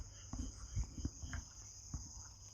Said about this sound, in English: Those are horny desert frogs trying to get it in. They get super loud at night.